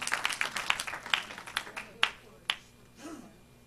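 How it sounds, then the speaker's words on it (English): A church congregation claps during a Sunday service, a scattered run of sharp hand claps that thins out and fades, with a voice heard briefly near the end. "Clap your hands for the word of the Lord."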